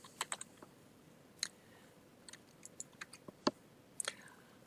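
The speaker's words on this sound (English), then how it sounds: "My typing is not always so good" Scattered, quiet clicks of typing on a computer keyboard, irregular single taps and short bursts spread across a near-silent background, close and faint with no talking.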